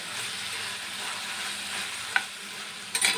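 Spiced chapati noodle mixture is stirred in a hot pan, giving a steady soft sizzle with a couple of brief scraping clicks near the end; no one speaks.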